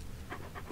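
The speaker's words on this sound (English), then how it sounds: "Dogs." Dogs in Postal 2 pant in quick, breathy bursts, three or four short puffs close by over a low background hum.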